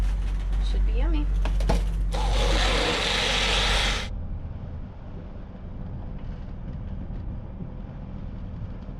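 A blender whirs loudly for about two seconds while making a banana, peanut butter, cinnamon and coconut milk smoothie aboard a sailboat, then cuts off, leaving low engine-like rumble and a voice speaking before it starts.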